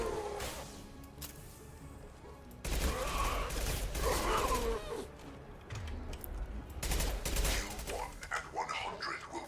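Husk enemies firing guns in the video game Mass Effect 2, a dense run of overlapping gunfire and bursts with loud surges partway through and near the end, heavy game action throughout.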